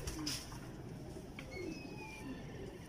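A breeder pigeon cooing softly in a few low, rolling calls, faint against a steady background hiss.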